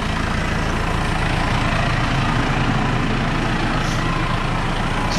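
A tractor engine idles steadily after hedge trimming with the PTO switched off. It gives a continuous low diesel rumble, close and even, and no one speaks.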